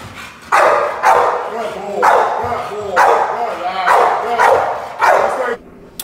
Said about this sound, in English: we want to teach the dog and encourage the dog to bark a lot